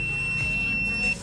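A buzzer sounds from a shorted output on a dripping-lights controller: a thin steady electronic tone held over a low hum, close by, cutting off near the end.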